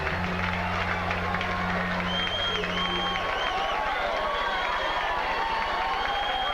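Boxing crowd at George Foreman's hometown fight in Marshall, roaring and cheering as he heads for the ring, a dense continuous wash of noise with whistles, while a low steady hum fades out partway through.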